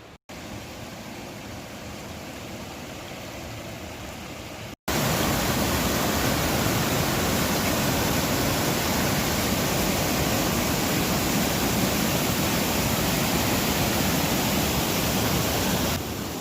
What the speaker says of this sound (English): we have what looks like a bit of a canyon up there and some rapids